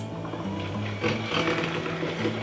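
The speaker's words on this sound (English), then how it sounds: "In order to get rid of some of the lumps, I'm just going to give it a bit of a whiz." A Thermomix whirs as it briefly blends lumpy pear and chocolate chip muffin batter, giving a steady motor hum with a rhythmic pulsing drone over about two seconds.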